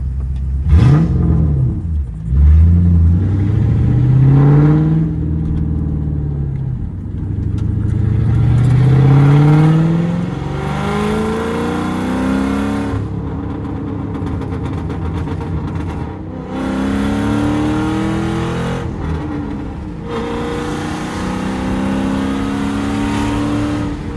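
Straight-piped Ford Mustang GT New Edge V8 revving up and down nearby, loud rising and falling engine sweeps with rumbling exhaust, repeated several times with no talk.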